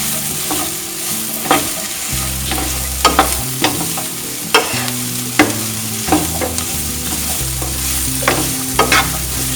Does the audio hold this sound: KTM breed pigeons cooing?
no